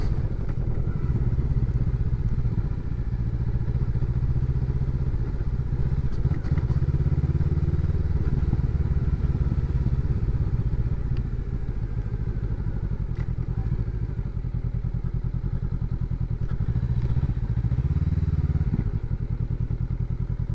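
Motorcycle turning into a bikes-only parking area on a Wirral tour, its engine thrumming steadily and close throughout with occasional clattering thumps.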